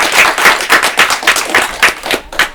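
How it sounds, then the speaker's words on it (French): An audience claps in a rapid, irregular patter at the close of a rap show segment, with no voices heard over it. "On applaudit."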